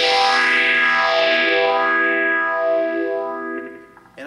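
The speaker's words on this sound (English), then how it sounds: "You also need a phaser for the second guitar part" Electric guitar part run through a phaser, tape delay and room reverb, sweeping swirly tones that decay into echoes, played alone and fairly loud.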